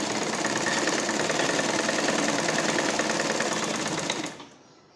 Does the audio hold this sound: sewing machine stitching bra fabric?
yes